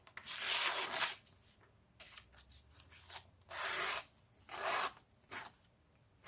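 A knife blade is drawn through a handheld pull-through sharpener in repeated abrasive, rasping strokes, several bursts separated by short pauses, close and fairly loud with no talking.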